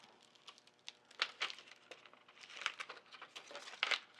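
Transfer tape peeling off a vinyl laptop decal gives soft, quiet crackling and sticky tearing bursts, coming in short uneven pulls over about four seconds, close by with no talk.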